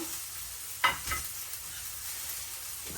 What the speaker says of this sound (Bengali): পেঁয়াজটা এখন একটু ভাজা নেই